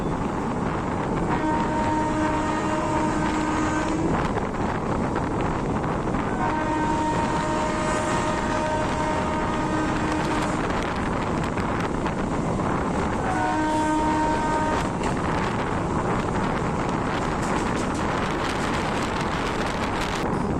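A local EMU train on the Howrah–Tarakeswar line rumbles loudly and continuously from inside, with a recurring high tonal whine rising and fading over the steady roar.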